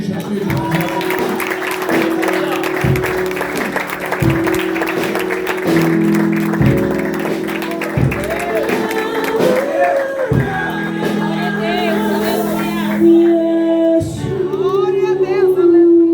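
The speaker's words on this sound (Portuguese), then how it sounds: "Quem pode aplaudir o nome de Jesus de Nazaré?" Audience applause with cheers and shouts at a church youth congress worship service, loud and sustained throughout while music with steady bass chords plays underneath.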